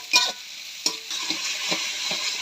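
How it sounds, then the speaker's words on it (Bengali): Spices and onion fry in hot soybean oil in a pan, a continuous near sizzle broken by a few sharp scraping stirs from a spoon. "প্রথমে দিলাম সয়াবিন তেল, তেল দিলাম, মশলাগুলো দিলাম, পেঁয়াজ দিলাম, দিয়ে মশলাটা কষাই নিয়ে মাংসটা দেব।"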